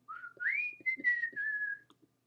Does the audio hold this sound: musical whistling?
yes